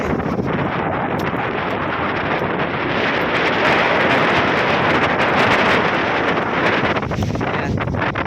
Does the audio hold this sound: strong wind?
yes